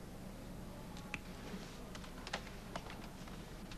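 Fingers tap on a computer keyboard, a quiet scatter of light irregular clicks over a low background hum, heard alone.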